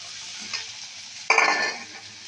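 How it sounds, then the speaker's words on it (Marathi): Soaked poha, flattened rice, is stirred and sautéed in a pan: a soft scrape, then a sudden bright sizzle as the rice hits hot oil, fading gradually while the stirring continues. "आता याला जरा परतून घेणार आहे. यामध्ये हे पोहे भिजवलेले टाकत आहे."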